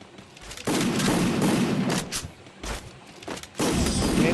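Video game gunfire in Free Fire, several loud bursts of rapid shots broken by short pauses, with an M10 among the weapons in the match.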